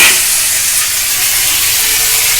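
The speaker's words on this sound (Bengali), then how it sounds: "দিয়ে টমেটোগুলোকে একটু তেলের সঙ্গে নেড়ে মিশিয়ে নিতে হবে।" Tomatoes fry in hot oil in a pan for tomato paratha, giving a steady, close, even hiss with no break and no voices.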